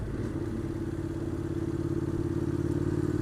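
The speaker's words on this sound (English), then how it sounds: "I definitely like this as a commuter bike" A Honda NC700X motorcycle being ridden on a commute, its engine droning steadily with a pulsing low rumble and some wind and road clatter, close and continuous with no speech.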